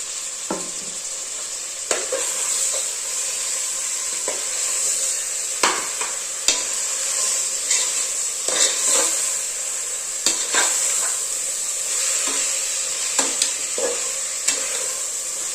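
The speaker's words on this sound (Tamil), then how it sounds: "இந்த டைம்லேயே சேர்த்தா தான் கொத்தமல்லி புதினா எல்லாம் நல்லா வதங்கி" Coriander and mint leaves fry with a steady bright sizzle in a pan for vegetable biryani, broken by repeated scraping clicks of a stirring spoon throughout, close and fairly loud with no talking.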